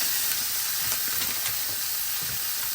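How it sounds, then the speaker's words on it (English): Ground beef, 93% lean, sizzles steadily in a hot pan, a dense continuous hiss with faint scraping as the meat is broken up, close and alone with no talking. "I'll just kind of break this up and fry it up"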